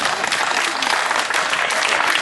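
At the 2016 Fremont County Fair in Sidney, Iowa, a crowd gives a performer a big round of applause: dense, steady clapping that stays at an even, moderate level throughout, with no voices on top.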